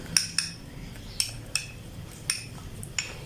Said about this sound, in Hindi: अभी इसको मिक्स कर लेते हैं दूध के अंदर